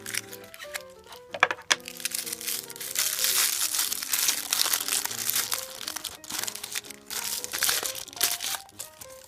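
Tissue paper crinkles and rustles close up as a doll's shoebox holding T-strap pumps is opened, with bursts of crumpling and handling over several seconds and no talk.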